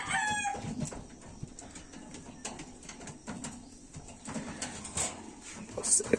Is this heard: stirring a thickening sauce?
no